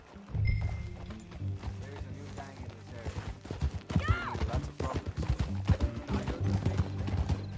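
Horse hooves clip-clopping in the video game Red Dead Redemption 2, a rhythmic trotting patter mixed with a neigh and game sounds, moderately loud and close.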